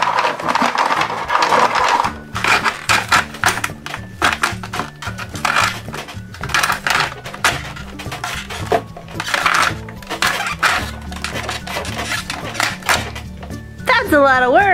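A hand-cranked Paw Patrol snow cone maker grinds and shaves ice in a continuous rhythmic rattling churn, loud and close, while a voice talks over the cranking.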